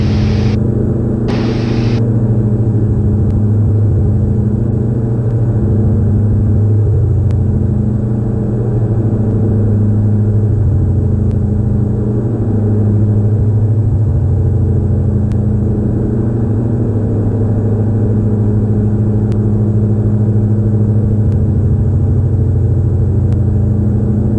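Twin piston engines of a Diamond DA42 drone steadily inside the cockpit during a cruise climb, a loud constant low hum with layered harmonic bands and no talk, apart from a couple of brief tones at the very start.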